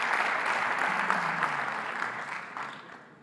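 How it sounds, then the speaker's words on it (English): Ceremony audience at the IHF Awards applauding award winners, a continuous, even patter of many hands that tapers off toward the end. "A big applause for all of them."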